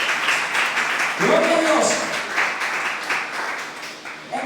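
A church congregation claps through a sermon, steady broadband applause running the whole time, with a voice calling out praise over it.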